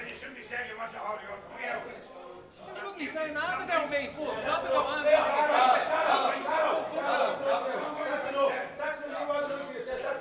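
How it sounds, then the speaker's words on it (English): A noisy crowd at a pool money match, with many overlapping voices chattering, shouting and laughing close by, swelling louder midway and staying busy throughout. "this is all getting a bit vocal here in the background."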